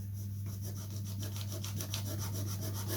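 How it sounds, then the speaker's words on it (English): Rhythmic scraping of a sanding block rubbed back and forth across wood, close and steady, over a constant low electrical hum. "I'm just sanding with the block"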